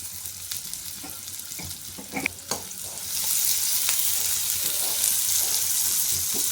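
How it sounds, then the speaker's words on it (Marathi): Chopped onion frying with salt in a pan for a rural Maharashtrian greens dish, a close, loud hiss and sizzle that swells and steadies after a few stirring scrapes and clinks of the spoon. "मीठ टाकल्यामुळे कांदा पण लगेच भाजतोय."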